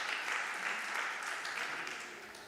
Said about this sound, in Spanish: Un aplauso a todos los que son por primera vez.